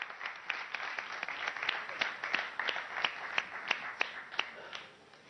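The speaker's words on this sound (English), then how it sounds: "A big round of applause for him." Audience applause at a televised finance event, fairly soft and distant, with a steady patter of many hands punctuated by a few sharper nearby claps, tapering off at the end.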